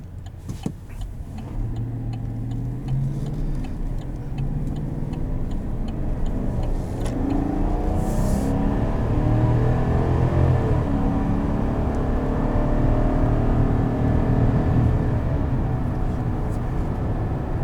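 A 2020 GMC Sierra 1500 Elevation pickup truck's engine hums steadily from inside the cab while driving, with road rumble and a smooth rise in engine tone through its 10-speed transmission.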